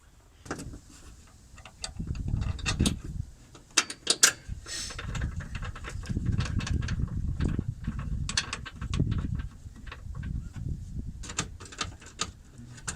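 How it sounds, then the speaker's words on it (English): Sharp metallic clicks and short ratcheting bursts come from removing a bolt while installing an AF Dynamics cold air intake on a 2017 RAM 1500, close up, in irregular clusters over low engine-bay rumble, with no talking. "we're going to remove this bolt right here to bolt the front end of the box in place."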